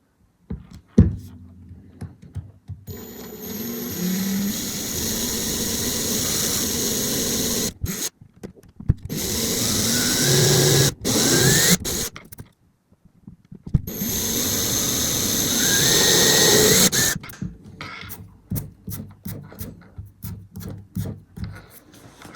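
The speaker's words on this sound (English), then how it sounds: "So what I need is two 2mm holes there as a pilot hole for the two screws that are included." A small drill bores 2mm pilot holes in a lap steel guitar, with two long whirring, grinding bursts up close, separated by pauses and interrupted by clicks and brief rattles.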